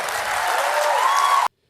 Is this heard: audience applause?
yes